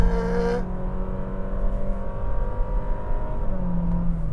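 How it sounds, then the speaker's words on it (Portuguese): A Honda City 2022 engine with CVT drones as it accelerates, its pitch rising smoothly and steadily without distinct gear shifts, heard from inside the vehicle. "Olha o barulho, olha a troca de marcha."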